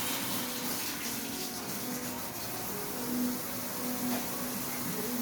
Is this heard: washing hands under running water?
yes